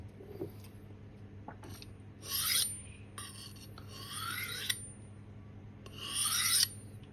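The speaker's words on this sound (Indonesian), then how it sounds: "kedengaran kan untuk suara daripada asahan" Bursts of a 20 cm knife rasping against a medium-grit Atasan whetstone, several strokes back and forth with short pauses between, close and crisp over a quiet background.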